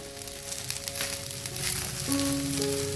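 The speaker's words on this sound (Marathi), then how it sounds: "हा भात छान असा ह्या फोडणीमध्ये परतून घ्यायचा आहे" Cooked rice sautéing in a tempering for raw mango rice gives a steady, moderate sizzle with light stirring, close by and without any talk.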